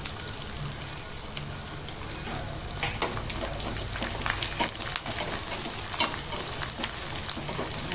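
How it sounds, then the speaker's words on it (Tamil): Green chilies, ginger and dal frying in a pan for a Tamil festival offering, a steady crackling sizzle that grows slightly louder, with scattered spatters and stirring clicks. "மிளகா நல்லா வதங்கட்டும். ஆனால் பருப்பு தீயக்கூடாது."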